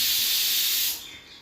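Potato chorchori cooking in a pan on a home stove gives a close, steady hiss that drops off sharply after about a second, with no one talking.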